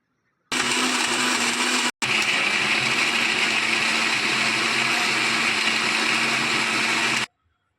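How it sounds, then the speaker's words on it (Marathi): A kitchen mixer grinder whirs steadily as it grinds chutney of ginger, salt, a pinch of sugar and water, running loud for about seven seconds with one brief pause near the start. "पाणी घालून आता आपल्याला मिक्सरला चटणी वाटून घ्यायची आहे"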